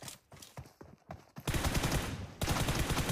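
Video game gunfire in a 1v1 warehouse arena match, scattered single shots and footstep-like clicks, then a sudden loud sustained burst of rapid automatic fire that cuts off briefly and resumes.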